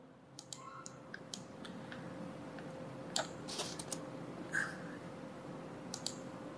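Code for Bootstrap typography is typed on a computer keyboard, making sparse, faint clicks and short bursts of keystrokes over a quiet room hum.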